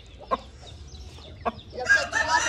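A heavy Kandhari rooster gives two short clucks close by, followed by a louder, rougher burst of squawking near the end.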